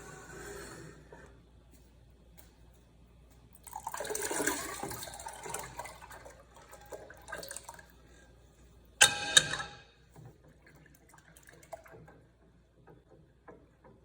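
Warm teff injera starter is poured back into its batter: a soft liquid pour lasting a couple of seconds, then a brief louder splash, with small handling noises in a quiet room.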